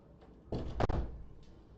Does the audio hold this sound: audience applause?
no